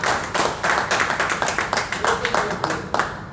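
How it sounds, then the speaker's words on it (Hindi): Audience clapping at an Urdu poetry recital (mushaira) held at a village restaurant in Dubai's Pearl Park: a steady run of close, sharp hand claps from a modest crowd, sustained and fairly loud with no voices over it. "मैं फिर दरखास्त करूँगा एक बार इनका फिर तालियों के साथ।"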